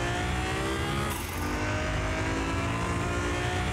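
A Nissan GT-R tuned to 1,500 horsepower in the Car Mechanic Simulator video game revs and accelerates hard, its engine a loud, continuous roar that holds steady throughout with no talk over it.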